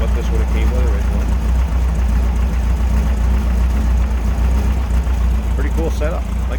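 A 1965 Volkswagen Beetle with an enlarged 1900cc engine runs steadily nearby, a low, even air-cooled drone throughout, with someone talking over it.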